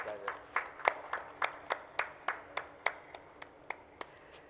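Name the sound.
audience applause at conference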